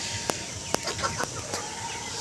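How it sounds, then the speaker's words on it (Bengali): Desi and sonali chickens on a poultry farm cluck close by in a few sharp, scattered bursts and soft calls over a steady background hum. "এখানে রয়েছে আমাদের দেশি মুরগিগুলো যেগুলো আমরা ডিমের জন্য তৈরি করছি"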